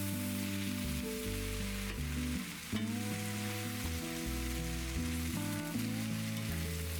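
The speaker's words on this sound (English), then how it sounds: "Going to add 2 tablespoons of flour and then mix that all in." Flour stirred into a sizzling mixture in a pan, with constant frying crackle over a steady low hum and tonal background music, close and unbroken, no talking.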